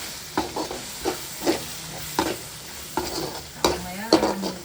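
Spicy fish gravy masala being stirred quickly in a pan: rhythmic scraping clanks of a spoon against the pan, roughly every half second to second, over a soft continuous sizzle.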